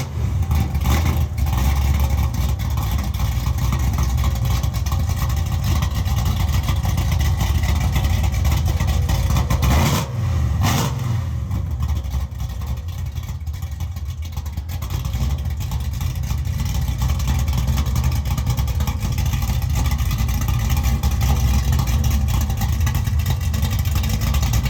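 A minivan with a 572 big block engine runs loud and steady at close range, with throaty revs and a brief sharp break in the roar partway through.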